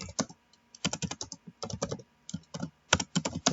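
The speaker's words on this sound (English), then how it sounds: "While I finish typing this." Fingers type on a computer keyboard in close, crisp bursts of rapid clicking keystrokes separated by short pauses, with no talking.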